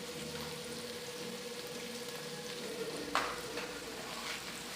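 Cumin seeds sizzle in hot oil in a pan while preparing a puffed-rice dish, a faint, steady crackling hiss with one brief sharper spatter midway.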